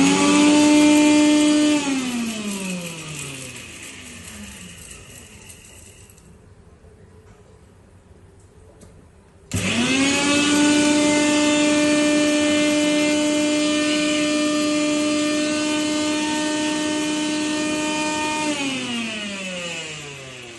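An electric mixer grinder spins up to a high whine, winds down, stops briefly, then starts again loud and steady while grinding spices for mango pickle, with a strong harmonic motor hum throughout.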